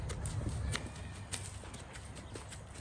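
Tennessee Walking Horse hooves walking on an arena surface during a riding lesson, a steady stream of soft clip-clop footfalls close by over a low rumble of background noise.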